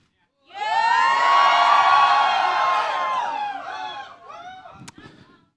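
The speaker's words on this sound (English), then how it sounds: "Let me hear a loud roar from this crowd." A crowd at a U.S. Navy 7th Fleet Band concert roars and cheers loudly in a sustained swell of voices and whoops, tapering off near the end, capped by a sharp slam.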